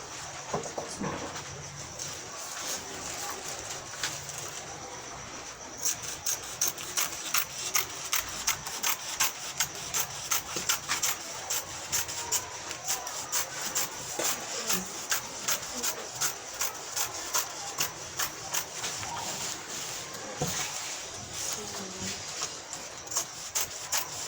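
Scissors cutting fabric for a gown, a quiet run of rapid, regular snips and rasps close by that get denser after the first few seconds, with no speech.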